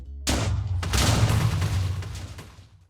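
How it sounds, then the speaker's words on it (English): TNT detonates in a video game, blowing apart a base: one sudden loud blast followed by a long, rolling, crackling rumble that slowly fades, with no voices. "He detonated the TNT."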